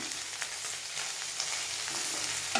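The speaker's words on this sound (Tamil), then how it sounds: "வாட்டர்மெலன் தோலை ஆட் பண்ணியிருக்கேன். இதை நல்லா ஃப்ரை பண்ணிக்கலாம்." Grated watermelon rind frying in a pan for halwa, a steady soft sizzle running evenly throughout with faint crackles and occasional light stirring scrapes, close and continuous.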